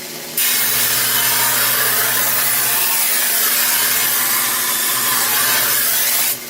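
Bucktool 2x42 belt sander at its slowest speed grinding a big chunk of steel under heavy pressure, a loud steady abrasive rasp over a constant motor hum, starting after a brief idle and running unbroken to the end.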